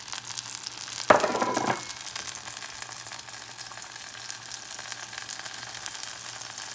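Kimchi and its juice sizzle steadily in a hot pot, a constant crackling hiss with a brief louder burst of stirring near the start.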